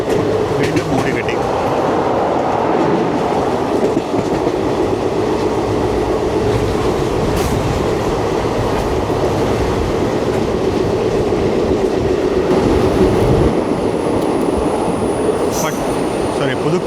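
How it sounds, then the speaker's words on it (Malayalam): The Chennai Egmore–Guruvayur Express runs through Pudukkad station with a loud, steady rumble and rattle of wheels and carriages, plus occasional faint high squeals, continuous throughout. "പുതുക്കാട് സ്റ്റേഷൻ വഴിയുള്ള റൺ ത്രൂ ആണ്"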